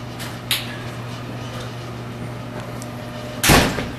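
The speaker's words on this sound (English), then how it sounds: "So, through the Bungie back door after very slight" The back door at Bungie Studios opens with a soft knock and then shuts with a loud thud near the end, over a steady background hum from a mechanical fan or appliance.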